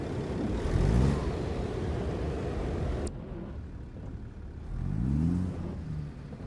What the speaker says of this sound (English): Engine sounds are up.